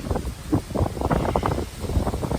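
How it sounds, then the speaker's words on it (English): Gusty wind blowing outdoors, buffeting the microphone in steady rough surges with rustling texture and no talk over it. "It's getting windy out here"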